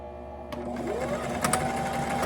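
A sewing machine back-stitching a 5/8 inch seam on a fabric bowl cover, a steady close whirring hum with a brief rising pitch as it speeds up.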